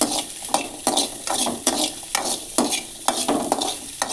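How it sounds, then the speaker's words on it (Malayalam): Onions fry in a pan while being stirred, with a soft sizzle under repeated scraping strokes of a utensil against the metal. The scrapes come roughly twice a second in a regular rhythm, close and clear. "എന്നിട്ട് ഉള്ളി കൂടി നന്നായിട്ടൊന്ന് വറുത്തെടുക്കണം"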